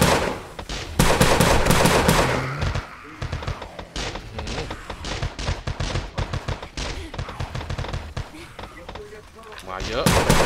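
Rapid gunfire from zombie-shooting action in a Thai collapsing-tower mission game, with dense bursts of shots and thuds running throughout and someone talking over the chaos.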